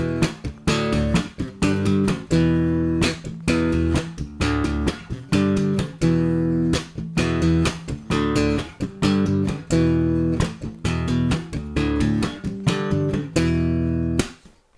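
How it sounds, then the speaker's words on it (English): Strummed bass chords mixed with muted ghost notes and alternating percussive hits drive a busy, funky rhythm for about fourteen seconds, close and loud with no talking. "So we're just going to be putting those ghost notes in with the alternating hits"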